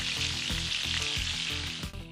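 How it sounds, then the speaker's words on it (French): Asturian bread fries in a pan of hot oil, giving a loud, close, continuous sizzle with crackling pops and a few soft stirring bumps. "Et ensuite, il ne reste plus qu'à faire frire ces merveilles."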